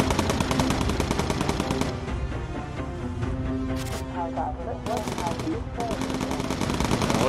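Rapid machine gun bursts from bomber turrets in the video game Bomber Crew rattle in quick, repeated strings with brief pauses between, heard under a speaking voice.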